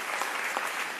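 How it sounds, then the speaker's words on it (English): A brief, dense round of audience applause at a project kick-off presentation, a steady patter of many hands heard at moderate distance. "give a hand of applause for me"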